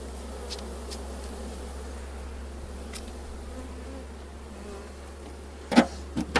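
Honeybees at an open hive give a continuous soft, close buzz, with a few louder knocks and handling bumps near the end.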